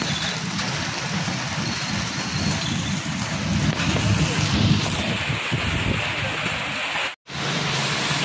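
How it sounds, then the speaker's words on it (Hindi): Heavy rain with large drops pours down in a steady, loud broadband wash, with a brief dropout near the end before the downpour continues. "बहुत तेज बारिश आ रही है, बड़ी बड़ी बूंदें आ रही है"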